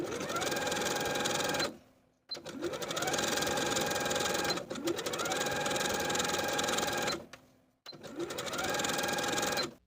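A sewing machine runs a stretch stitch, top stitching around a tee shirt neckline in four long steady runs separated by short pauses, loud and close with no talking.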